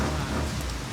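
Heavy rain pours down in a dense, steady roar of drops hitting surfaces, loud and continuous throughout with no voices.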